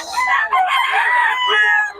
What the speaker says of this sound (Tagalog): Mga stag yung dala-dala ni Boss Perry, mga idol. Puro stag